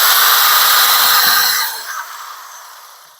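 Power drill spinning through wood to bore thin shank holes for small finishing nails, a steady high whir for about a second and a half that then winds down and fades away.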